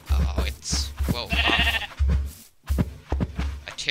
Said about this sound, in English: a terror sheep